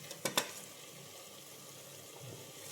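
Stirring of mushroom biryani mixture in a pressure cooker after salt goes in, a few quick scraping clatters of the spoon at the start, then a steady soft sizzle and bubbling hiss, close, no talk.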